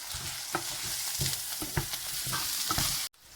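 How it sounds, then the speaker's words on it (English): Minced beef with a spoonful of tomato puree is stirred in a hot pan for lasagna, a steady close sizzle broken by regular scraping strokes of the spoon, ending abruptly. "We're going to add 1 tablespoon of tomato puree and then start mixing it."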